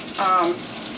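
Tap water runs steadily into a sink as a makeup brush is rinsed, a short wash of hissing flow with a brief, louder splash and a faint tonal whine near the middle.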